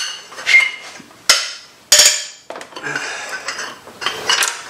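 A breaker bar and wrench loosen cylinder head bolts on a BMW E36 engine, giving a series of sharp metallic clanks and snaps with ratcheting scrapes between them, close and fairly loud.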